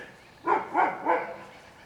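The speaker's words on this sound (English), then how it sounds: "that damn dog" A dog barks three times in a quick, evenly spaced run, fairly loud and close, heard in a garage during belt and main spring work on a 2013 Yamaha Zuma 50cc scooter, with quiet background between barks.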